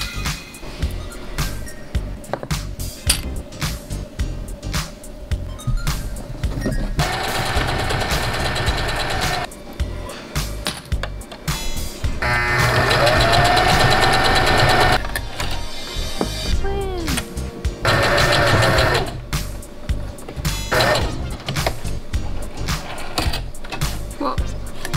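A sewing machine stitches the sleeves of a turtleneck made from thrifted clothing, running in several separate bursts of steady mechanical whir between pauses and handling noise, close and fairly loud.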